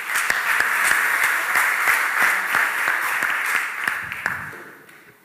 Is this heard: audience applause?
yes